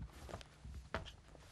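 Footsteps in dress shoes, walked for a film foley recording. A few sparse, hard heel steps sound at close range, with one sharper strike standing out among softer scuffs.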